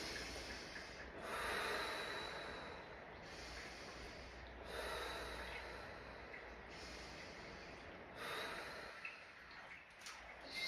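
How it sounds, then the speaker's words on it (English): Slow, deliberate breaths drawn in and out through the nose during a guided fascial maneuvers exercise class, several soft rushing inhales and exhales in a quiet room with no talking. "3 breaths through your mouth. 1, 2, 3, and 3 breaths through your nose."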